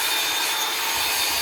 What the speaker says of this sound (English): You'll appreciate the amount of sawing going on here.